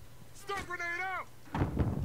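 A grenade goes off in Modern Warfare 2 on PS5: after a brief humming, tonal voice-like sound, a single loud, rough blast erupts near the end and rumbles on.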